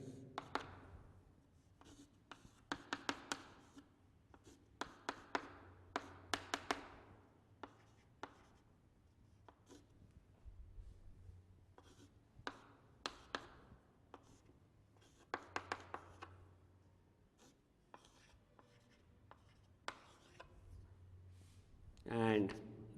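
Marker or chalk writing on a board during a chemistry lecture on acetylation: quiet scratchy strokes and taps in short irregular bursts, with pauses between, and soft room noise under them.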